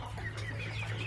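Broiler poultry chickens clucking steadily inside a meat-raising farm shed, a continuous close chorus of overlapping clucks over a constant low machine hum, with no talking.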